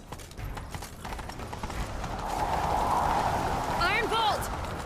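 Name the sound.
horse hooves galloping in a video game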